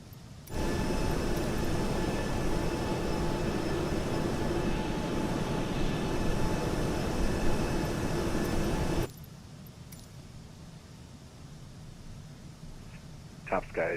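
Loud, steady engine roar outside a PMDG 737-900ER cruising at altitude in Microsoft Flight Simulator, a dense broadband rush with a faint whine that cuts off abruptly partway through, leaving a much quieter hum.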